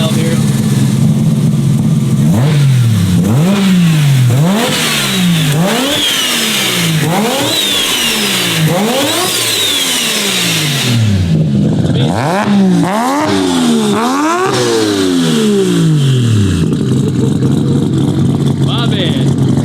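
A turbocharged Mazda RX7 rotary engine with a blow-off valve runs loud and close, rising and falling through a rapid series of repeated revs in an aircraft hangar, with voices partly talking over it.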